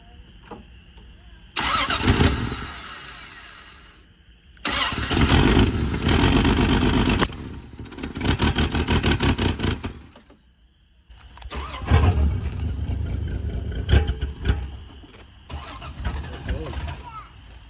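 An old 1978 Plymouth Volare, left sitting in a junkyard, cranks repeatedly in long loud bursts with pauses between, the engine catching and revving roughly; people talk throughout.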